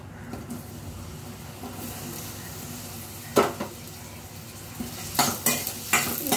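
Onions frying in a pan, a low steady sizzle broken by sharp spatula scrapes and clinks of stirring, several in quick succession near the end.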